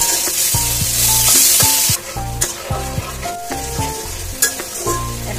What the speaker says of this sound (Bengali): এখানে বারবিকিউ সস, তেঁতুলের সস, তারপরে টমেটো সস,